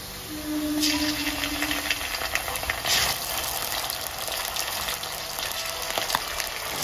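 Ginger garlic paste goes into browned onions in a pan for a Bengali country chicken roast, giving a steady moderate frying hiss with faint clinks throughout.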